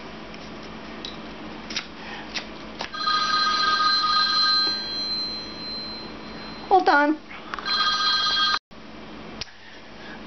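A telephone rings with bright repeated electronic trills in two bursts, a voice speaking briefly nearby over a steady background hum.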